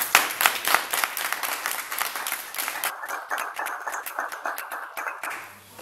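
An audience at a discussion event applauds, a burst of many hands clapping that gradually thins to scattered claps, fairly near, with no talk over it.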